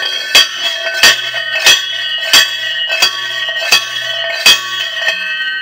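A hammer strikes a rock ore sample to crush it, making about eight sharp, ringing metallic blows at a steady, unhurried pace, loud and close with no talking.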